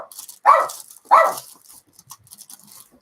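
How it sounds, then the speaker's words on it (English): A dog barks twice in quick succession, loud and close, in a room where someone is building a 1/24 scale Airfix Spitfire Mk Vb model, followed by quieter faint indoor sounds. "apologies for the dog."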